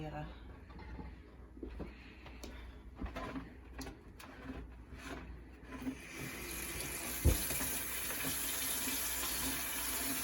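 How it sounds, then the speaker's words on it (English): Tap water runs steadily into a container at a home garden seed-starting setup, a continuous hiss building in the second half, with a person speaking over the early part and soft handling clunks throughout. "I'm going to run a little bit of water."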